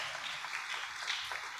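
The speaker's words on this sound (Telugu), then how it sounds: "గట్టిగా చప్పట్లు కొట్టి అభినందిద్దాం" A church congregation applauding young people for winning a second prize at Sunday Mass: steady, moderately distant clapping from many hands, even and continuous, with no voices over it.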